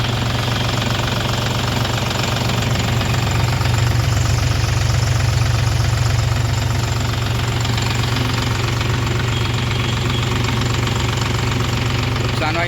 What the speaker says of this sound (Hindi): ऐसा कुछ साउंड है ट्रैक्टर का।